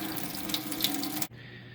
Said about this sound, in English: Just draining it all.